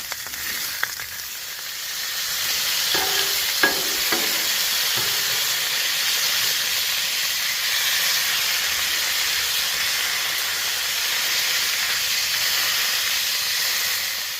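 Johnsonville hot Italian sausages sizzle steadily on a Blackstone griddle, a continuous close frying hiss with a few faint clicks of handling early on and no talk.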